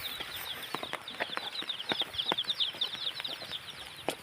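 Chickens cluck and chatter repeatedly in quick, uneven bursts, fairly close, at a fiesta, with no talking.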